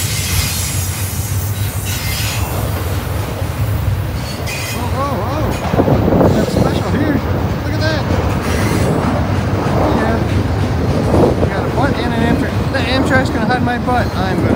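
A train rolls past near Long Bridge Park, with loud continuous rumble, wheel squeal and clickety-clack close by, while people talk over it.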